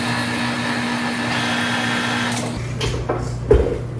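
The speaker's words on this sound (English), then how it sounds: "I'm gonna get a bowl for this because I'm gonna use the mixer again" An electric mixer whirs steadily and fairly loudly for about two and a half seconds while blending fall harvest cookie dough with cinnamon and nutmeg, then cuts off, leaving faint kitchen clatter and a soft knock.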